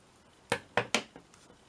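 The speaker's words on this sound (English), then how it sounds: "Let me use my fabric scissors, it'll be a bit easier." Fabric scissors snipping through material at close range, a few crisp separate cuts with quiet pauses between them, no talk.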